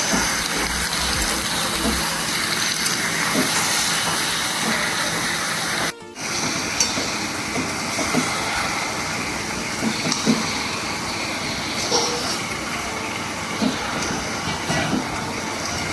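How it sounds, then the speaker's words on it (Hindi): Chicken pieces and onions stir and sizzle steadily in a pan for a biryani-style chicken curry, a continuous loud frying hiss with a brief dropout midway and no talk. "अब प्याज के साथ चिकन को अच्छे से मिला लें।"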